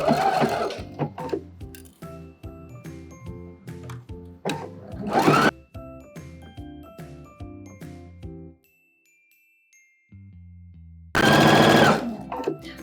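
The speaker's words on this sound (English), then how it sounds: "we're gonna go over to the sewing machine and we're gonna sew up this armhole seam at 1/2 inch" A sewing machine set to a straight stitch sews an armhole seam on a puff-sleeve babydoll dress, running in loud close bursts with rhythmic mechanical ticking between, a quiet pause, then another burst.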